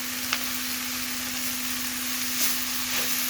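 A tempering of lentils, dried coconut, dried red chillies and garlic sizzles steadily in a hot pan for chutney, a continuous loud hiss with faint stirring clicks and no talk.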